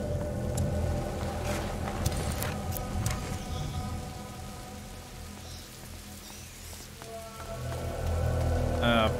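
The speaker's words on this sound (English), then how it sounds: "Lucas, Hugo, stay out of the rain." Steady rain in the A Plague Tale: Innocence video game, a constant wash of falling water with scattered drips and patters, joined by a faint tonal music bed.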